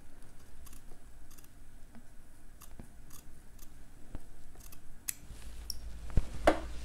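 Scissors snip through sheer, transparent bra fabric on a sewing table: a scattering of small, crisp clips that build to a few louder, closer cuts near the end.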